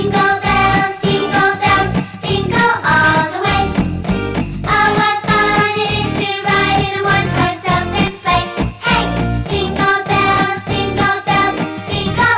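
Bright hand bells jingle in a steady, loud rhythm alongside an upbeat Jingle Bells accompaniment at a Christmas church service, continuous throughout with no talking.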